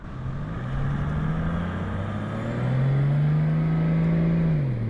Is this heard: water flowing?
no